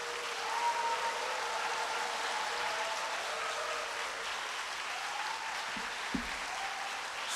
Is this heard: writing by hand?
no